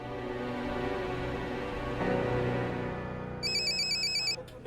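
A mobile phone ringtone plays steadily over a sustained background drone, and a second ringing tone with rapid repeated beeps joins near the end.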